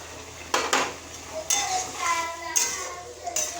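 Mustard paste water added to a vegetable stalk curry in a pan, a few spoon-on-pot clanks and scrapes over a low simmering sizzle, close by, with no voices.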